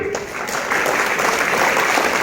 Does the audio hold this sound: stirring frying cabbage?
no